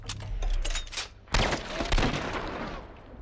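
Gunshots in The Last of Us Part I, loud and close, several bursts of gunfire with a sharp blast near the middle and a second shot shortly after, with reverberant tails.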